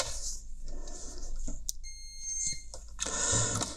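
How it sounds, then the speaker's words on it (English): Digital multimeter in continuity mode beeping while probing headphone wires during a Bluetooth headphone repair, sharp high electronic tones sounding near and loud in short bursts and one held beep. "Entering continuity mode."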